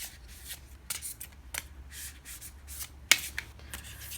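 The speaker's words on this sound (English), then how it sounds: "let's just give it one last whirlwind of a shuffle" Tarot cards are shuffled briskly and repeatedly, producing a steady run of soft riffling and rubbing bursts with occasional sharper snaps, close and quiet, with no talking.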